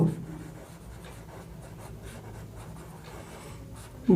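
Chalk or pen writing by hand during a Class 10 maths lesson on quadratic surds, a steady soft scratching that runs through the whole stretch with no talk over it.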